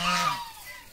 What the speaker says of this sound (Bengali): এই হাঁসগুলো বারবার ডিস্টার্ব করছে আমাদেরকে